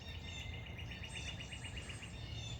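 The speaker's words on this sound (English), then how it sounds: "I'm hearing a lot of stuff too. The birds and everything." Birds chirp faintly outdoors on a morning, a quick repeated trill with scattered tweets over a low, steady background rumble and insect-like hiss.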